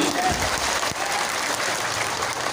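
An audience at an Indonesian religious talk claps their hands together in a dense, steady burst of applause that fills the whole moment, loud and close with no voices rising above it.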